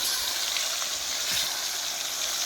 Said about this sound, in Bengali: নুন হলদি দিয়ে মেখে তেলের উপর ছেড়ে দিলাম। বেগুনগুলো ভেজে নিয়ে